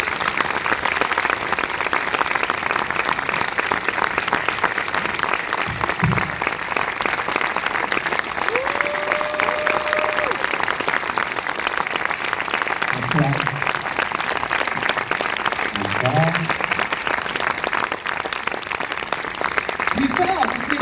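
Audience applause at a film premiere for "Une année difficile", steady broadband clapping filling the whole stretch, with a few brief voices and a short whistle-like tone rising out of the crowd noise.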